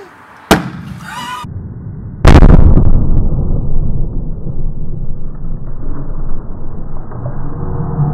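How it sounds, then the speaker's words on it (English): A hydrogen-filled balloon tied down on a string is ignited: a sharp crack comes first, then a loud, deep explosive boom that rolls on as a long rumbling tail. "We've got the balloon tied down to a string here, and we've just got to light the hydrogen on fire."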